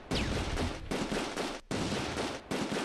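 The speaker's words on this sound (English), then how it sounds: "there's a machine gun, it looks like" Sustained automatic machine gun fire from the World War II strategy game Close Combat II, set around Arnhem and Schijndel, with dense rapid bursts and brief pauses, loud and close throughout.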